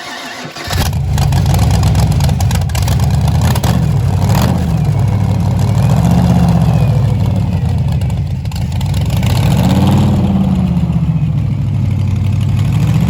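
A Cobra car engine running after break-in, a loud steady idle with gentle rises and falls in revs, close by throughout with no talking.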